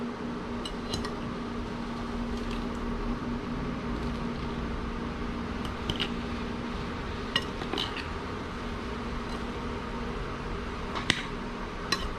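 Salad being tossed in a bowl, with faint scattered clinks and scrapes of utensils over a steady low background hum, quiet and close with no talk.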